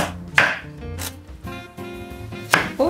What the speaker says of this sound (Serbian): Da bi se lakše skuvalo, sečem povrće na manje komade.